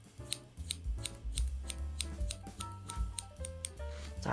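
Steel hair-cutting scissors snip through hair during a short horizontal layered haircut, giving a steady rapid run of close, crisp snips over a low background.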